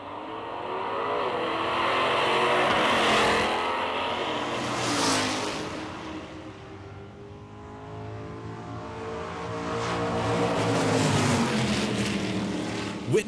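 Big-block 1960s muscle cars, 427 Ford, 426 Chrysler, 421 Pontiac and 409 Chevy, run side by side in a nostalgia drag race, engines roaring and revving loudly in long swelling waves with no talk over them.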